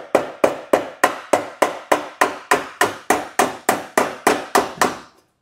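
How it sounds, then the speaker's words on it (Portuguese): A steel hammer strikes a dolly braced under a dented body crease on a Renault Fluence, about fifteen sharp, evenly spaced metallic blows in a steady rhythm, close and loud, with no talking. "Com o taço e o martelo, vou colocar aqui embaixo o taço firmando"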